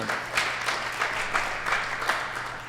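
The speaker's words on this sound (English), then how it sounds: "Can you give them a round of applause?" An audience claps steadily throughout, a dense continuous wash of applause at moderate volume with a faint hum beneath.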